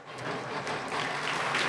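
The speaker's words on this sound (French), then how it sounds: "Vous pouvez l'applaudir." An audience at a history talk claps together, a short dense burst of applause that swells slightly, heard at moderate distance without speech.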